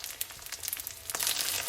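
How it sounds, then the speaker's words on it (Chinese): Heart-shaped sausage and egg frying in a pan, a soft, quiet crackling sizzle with small pops that grows slightly louder near the end, with no voices. "将鸡蛋翻一个个再煎一下，"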